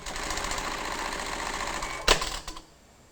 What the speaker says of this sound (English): release the foot pedal to start the tack